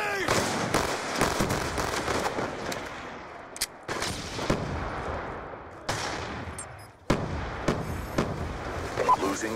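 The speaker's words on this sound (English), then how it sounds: "Grenade!" A grenade blast amid a military first-person shooter video game firefight, with repeated booming explosions and gunfire bursts packed closely together and game voice callouts talking over the chaos.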